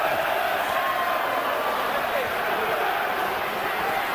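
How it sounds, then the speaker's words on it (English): A large boxing arena crowd roars in a dense, steady wash of cheering and applause that holds at one level throughout, with a voice talking over it. "They're cheering downstairs. The applause is building."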